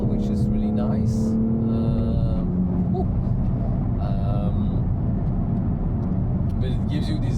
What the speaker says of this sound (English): I love the exhausts. Valves are open now.